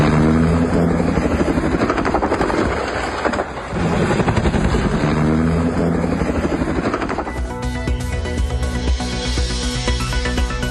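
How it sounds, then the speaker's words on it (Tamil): A helicopter in Utah, filmed as it goes down in a crash, gives a loud, continuous rotor drone that shifts toward a harsher, broadband roar near the end. No voices. "அமெரிக்காவின் உட்டாவில் ஹெலிகாப்டர் விழுந்து விபத்து"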